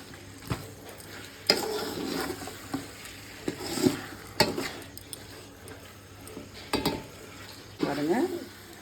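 Chicken simmering in biryani masala in a pot, with a low steady sizzle broken by occasional spoon scrapes and knocks against the pot, and a brief voice near the end.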